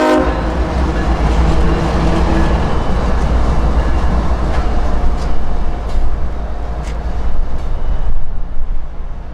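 Freight train locomotives pulling out onto the main line, loud and close, with a heavy diesel rumble, clanking rail cars and a horn sounding early on.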